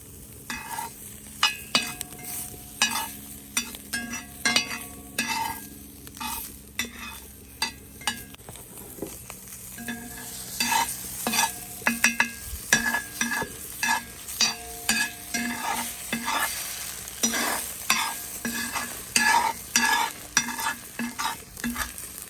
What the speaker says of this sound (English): Get a little fat and grease going in the pan, and we'll throw some eggs in too